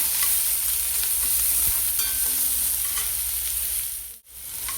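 Chopped onions frying with cumin in about two spoons of oil in a kadai for a North Indian style potato and fenugreek masala: a steady, close sizzle with occasional stirring scrapes throughout.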